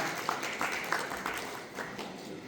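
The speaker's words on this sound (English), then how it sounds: "Please applaud for Mr. Dr. A.S." A conference audience at the 26th CIO & Leader Conference in the Ritz Carlton applauds for speaker Dr A.S. Prasad, a moderate, steady patter of scattered hand claps lasting a couple of seconds with no talk over it.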